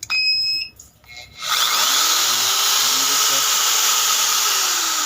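A power drill on an off-grid solar setup starts with a beep, then whines steadily and loudly for several seconds at an even pitch, close to the microphone.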